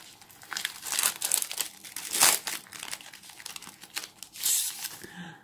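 A Pokémon card booster pack wrapper torn open by hand, with close crinkling foil and sharp tearing bursts in uneven pulses over several seconds and no talking.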